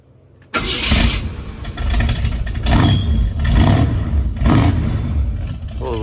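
A Foxbody Mustang engine cranks and catches abruptly after a quiet moment, then runs loud and rough, its revs surging a few times, with a slightly squeaky belt.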